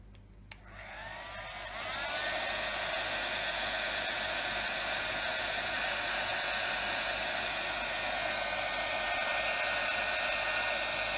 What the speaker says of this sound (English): I'll just grab my heat gun